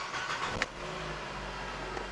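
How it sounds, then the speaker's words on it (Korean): A 2014 midsize sedan with about 139,000 km on it idles steadily with a low, even engine hum heard from inside the car, with a faint click near the start. "자 엔진 소리 좋죠"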